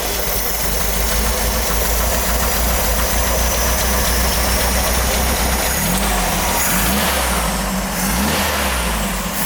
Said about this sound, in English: She's going to start it up so we can hear it.